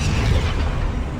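A dense, roaring fire spell blast from Hogwarts Legacy bursts out loud and close, a broad rumbling whoosh sustained for about a second with no talk.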